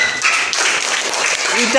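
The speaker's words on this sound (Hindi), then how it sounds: "वाह ताली बजाओ" Children clap their hands in a classroom lesson on symmetric shapes, a dense burst of close clapping blended with voices talking over it throughout.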